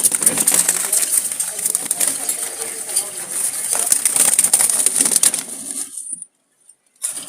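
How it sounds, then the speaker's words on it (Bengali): Jalali pigeons kept in a loft, a busy mix of soft coos, shuffling and wing flutters close by that stops abruptly near the end. "আরও কবুতর আমি আপনাদেরকে দেখাই দিচ্ছি রানিং জোড়া জোড়া এইখানে অনেকগুলো আছে"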